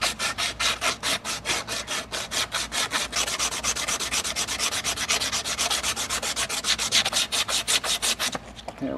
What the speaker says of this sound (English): This is a nice abrasive sandpaper.